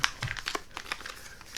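A plastic package of warm black bean sauce for noodles crinkles up close in a handful of short, scattered rustles and crackles over about a second and a half, fairly quiet, with no talking.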